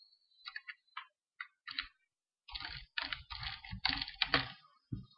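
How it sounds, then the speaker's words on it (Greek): Keywords are typed into a Google search box on a computer keyboard: close, crisp keystrokes, first sparse and hesitant, then a rapid dense burst of typing. "ξεκινώντας να πληκτρολογείτε τις λέξεις κλειδιά"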